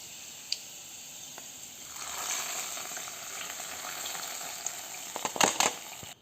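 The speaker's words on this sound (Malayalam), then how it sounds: "കൊച്ചുള്ളി ഒന്ന് മൂത്ത് വരുമ്പോഴത്തേക്കും കുറച്ച് കറിവേപ്പിലയും കൂടി ഇട്ട് കൊടുക്കാം അപ്പോൾ എല്ലാം ഒന്ന് മൂത്ത് വന്നിട്ടുണ്ട് നമുക്ക് നേരെ കറിയിലേക്ക് ഒഴിച്ചു കൊടുക്കാം" A hot tempering of shallots and curry leaves is poured into a curry, giving a soft, steady sizzle that swells midway and ends in a few crackling pops near the end.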